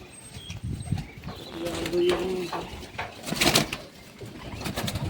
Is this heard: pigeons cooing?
yes